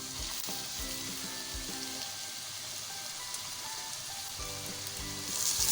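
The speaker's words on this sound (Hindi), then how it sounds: "प्याज को भी हम अच्छे से फ्राई करेंगे 1 से 2 मिनट टिंडों के साथ ही।" Onions and tinda (round gourd) frying together in a pan, giving a steady, close hiss of sizzling oil with faint scraping stirs throughout and no speech.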